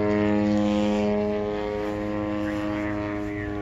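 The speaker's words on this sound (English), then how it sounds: "try to get some more flight footage of this T6 Texan as he comes through" A T6 Texan scale model airplane passes overhead at a scale flying contest, its engine a loud, steady droning whine that slowly fades as it moves away, with no talk.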